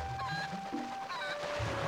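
A chicken clucking in The Legend of Zelda: Twilight Princess, with a few short, fairly close clucks over a steady background tone and game ambience.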